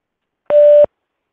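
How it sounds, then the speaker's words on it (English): A voicemail message tone: a single steady, clean electronic beep lasting about a third of a second, loud and alone against silence. "Please leave your message after the tone"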